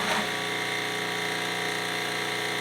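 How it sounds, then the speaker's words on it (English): The pump of a Sandia 50-7000 carpet extractor runs with a steady, even mechanical hum and whine, close by and unchanging throughout. "Then I'm gonna click this pump on over here"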